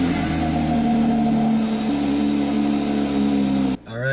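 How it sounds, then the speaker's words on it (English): Porsche engine idling right after a cold start, a steady close mechanical hum with a high fast idle that cuts off sharply near the end as a voice begins. "You can listen to the cold start of the Porsche here."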